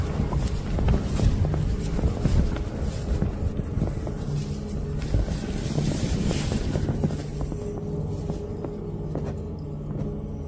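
Wind gusts and buffets around a bivvy at night while camping, a steady roaring blow with low rumbling pressure on the microphone and faint rattling, continuous and fairly loud throughout.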